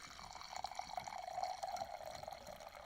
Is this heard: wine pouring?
yes